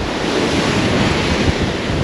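Sea waves on the Costa del Sol, a loud continuous wash of surf mixed with heavy wind buffeting the microphone, with no talk.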